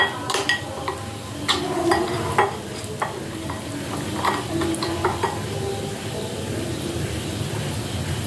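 A spoon stirs spice paste of ground cumin mixed with water in a cooking pot, giving soft scraping and wet clinks in irregular bursts, close and moderately loud over a low background hum.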